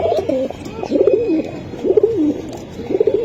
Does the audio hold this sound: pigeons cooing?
yes